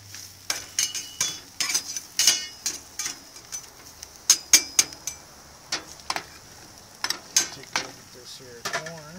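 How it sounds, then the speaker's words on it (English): Carrots stirred on a barbecue grill beside pork steaks, a run of sharp metallic scrapes and clinks from a utensil, irregular and close, with soft sizzling underneath. "Let's stir these carrots up here."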